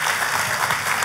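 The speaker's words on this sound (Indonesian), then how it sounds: "Tepuk tangannya yang paling meriah buat Tuhan kita." Congregation applauding in a church, a steady dense wash of clapping filling the short stretch without pause, fairly loud and with no one speaking over it.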